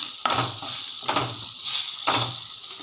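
Fresh mint leaves sauté in hot oil for a chutney, giving a steady close sizzle broken by three regular scraping stirs of a spoon in the pan, with no talking.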